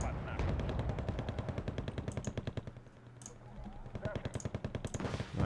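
Smerch rocket artillery launching a volley in the strategy video game Wargame Red Dragon, a rapid, rhythmic string of sharp firing blasts lasting several seconds, loud and close.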